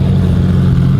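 A twin-turbo Audi R8 with an upgraded turbo kit, making over 1,000 wheel horsepower, holds a loud, steady deep engine drone at a car gathering, close and sustained through the short moment.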